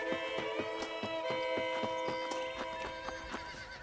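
A horse in the video game Red Dead Redemption whinnies loudly while its hooves clip-clop in a steady, even rhythm throughout, fairly close and clear.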